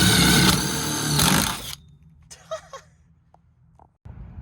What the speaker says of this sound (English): I have never drilled through metal so easily